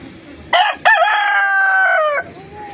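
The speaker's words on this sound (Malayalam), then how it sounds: "ഒറിജിനൽ നാടൻ പൂവൻകോഴികൾ. വൈറ്റിൽ ബ്ലാക്ക് ഡോട്ടാണ്." A single native rooster, white with black dots and about 2 kilograms, crows loudly and close by, a long drawn-out call after a short opening note, against a quiet background.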